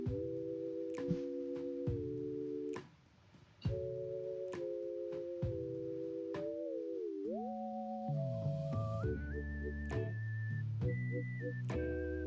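Synthesized whistle-like melody resembling a Halloween ghost song, sustained wavering tones gliding between pitches and climbing higher, with clicks and a brief pause, playing alone.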